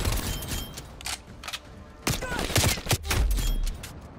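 Automatic gunfire in the Call of Duty Black Ops Cold War video game, played on PS5: repeated sharp bursts and single shots, some loud and close, with rumbling impacts between them and no talking.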